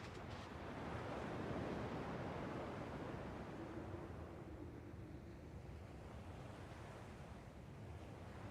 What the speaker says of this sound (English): At least the waves sound the same.